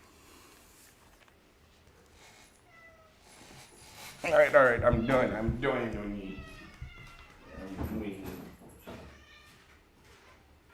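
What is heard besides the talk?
domestic cats meowing at feeding time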